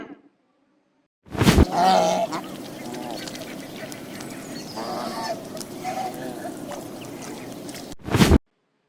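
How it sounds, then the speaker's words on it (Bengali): A loud honking waterfowl call bursts out, then a long stretch of lower squawks and murmurs, ending with another sharp honk. "এটা হলো রাজহাঁস, ইংরেজিতে বলে সোয়ান"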